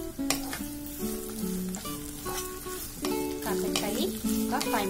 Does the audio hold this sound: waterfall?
no